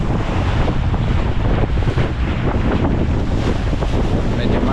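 Choppy sea slapping around a small fishing boat out after tuna, with heavy wind buffeting the microphone, a loud churning wash and rumble carrying on without pause.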